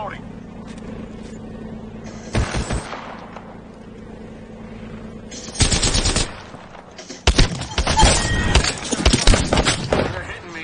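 Automatic gunfire in the Fallout 4 video game, with bursts of rapid shots that crackle loudly and cut in and out over a steady low game hum, alongside combat noise.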